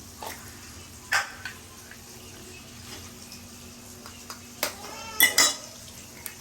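Eggs are cracked one after another into a buttered pan, with a few sharp, separate knocks and taps spread across a quiet kitchen background and a faint hum between them.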